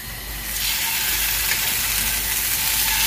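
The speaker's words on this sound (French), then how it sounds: "Dans les crevettes, on les saisit." Shrimp seasoned with saffron oil and salt sear in a very hot frying pan, a loud, dense sizzle that swells up after half a second and holds steady and close.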